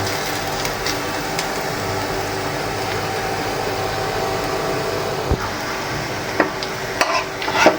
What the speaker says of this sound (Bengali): আর একটু বাদামি কালার করে ভেজে নেব